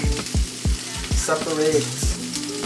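Food fries in a pan in a shared co-op kitchen, sizzling steadily while a utensil scrapes and taps in a quick repeating rhythm, close up, with a brief spoken word in between.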